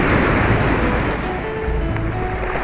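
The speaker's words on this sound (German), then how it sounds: "Ja, wir haben eine wunderbare Brandung." Surf breaks steadily on the Mediterranean coast of Sicily, a loud, close, continuous roaring wash with some wind buffeting the microphone and no speech.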